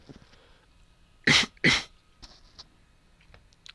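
Two sharp, harsh coughs in quick succession, close and loud, followed by faint rustling and small clicks.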